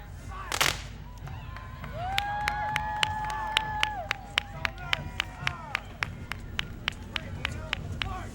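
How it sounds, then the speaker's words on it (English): A single loud cannon blast booms early at an outdoor St. Patrick's Day parade, followed by crowd noise, a sustained horn-like tone and a steady run of sharp rhythmic cracks. "oh, they're going to shoot their cannons."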